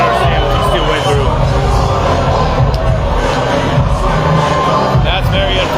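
A large live Muay Thai fight crowd roars in a dense, sustained wall of disapproving booing and jeering, loud and close throughout with a few shouts rising above the mass.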